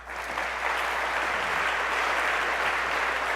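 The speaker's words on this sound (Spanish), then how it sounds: "un fuerte aplauso" An audience at a business executives' conference gives a strong round of applause, a steady wash of many hands clapping that swells slightly and holds, with no talking over it.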